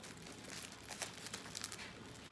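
Box packaging is torn and crumpled by hand, a quiet close-up run of crinkling and ripping with a few sharper crackles.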